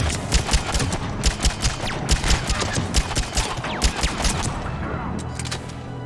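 Sustained gunfire from the Mass Effect 3 video game on Noveria, with rapid repeated shots in an irregular rhythm over a dense background of game noise.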